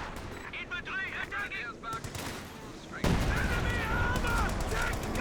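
Rocket artillery barrage from Company of Heroes 2, a 2v2 match: a loud, dense rumble of overlapping blasts that swells sharply about midway and keeps roaring, with a voice speaking under the first part.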